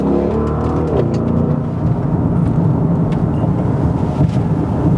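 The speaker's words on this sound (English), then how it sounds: "I pin it and then I'm waiting for about half a second and then I'm starting to move" A 2020 Audi RSQ8 with a boosted engine pulls hard at full throttle, its deep, loud, sustained roar steady and close with no talk over it.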